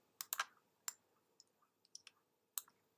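A computer mouse clicks sharply and close by, with a quick double click near the start followed by several scattered single clicks in a quiet room, no talking.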